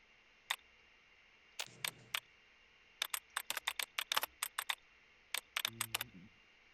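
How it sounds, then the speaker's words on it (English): Sharp clicking keystrokes on a computer keyboard, fairly close and clear, arriving in irregular bursts with short pauses between clusters of taps, no voices. "Sorry, I'm typing."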